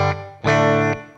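Electric guitar chord played loud and distorted through a Sonicake Pocketmaster Air set to room reverb with decay all the way up, a chord fading out, then one fresh strum that sustains and drops into a short tail.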